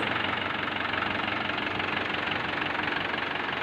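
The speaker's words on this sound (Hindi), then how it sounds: "अभी ट्रैक्टर स्टार्ट है, आप इसका साउंड सुन सकते हैं।" A repaired tractor diesel engine idles steadily after pump work, a continuous low knocking rumble with even rhythm, close and loud throughout with no talking.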